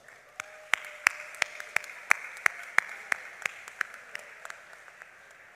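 Applause for ninth grade honor students at a high school underclass awards ceremony: a thin crowd of hand claps, with sharp individual claps standing out at a steady rhythm, moderately distant in a large room.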